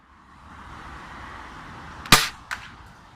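A ZM51 airsoft gun test-fired outdoors, producing one sharp, snappy shot with a fainter second crack just after, heard alone against quiet wind noise.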